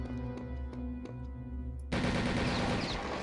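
A Mauser rifle fires in Return to Castle Wolfenstein: a few sharp single shots ring out, then a sudden loud burst of dense gunfire and chaotic game noise takes over, close and prominent with no talk.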